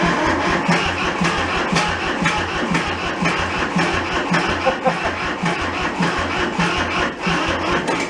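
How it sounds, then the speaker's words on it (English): A worn-out, thrashed Kubota diesel tractor engine runs loud and close with more throttle, a steady rough chugging clatter that holds at high revs. "I'm gonna give her a little bit more throttle, and then we'll get some more power to it"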